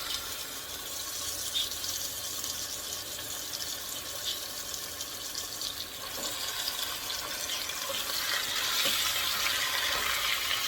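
Lean ground beef sautés in olive oil with browned onion and garlic, a continuous close sizzle with faint scraping stirs, no voices.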